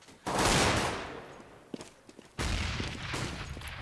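Desert Eagle pistol fire in Counter-Strike on the de_mirage map during a tournament match: two loud bursts of shooting, each fading away, with faint footsteps and small clicks in between.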